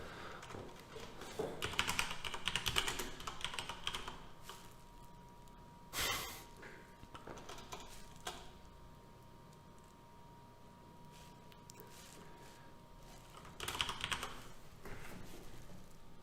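Computer keyboard typing during work on a KiCad schematic for a PCB battery charger, with bursts of rapid key clicks separated by quieter stretches, fairly close and without talk.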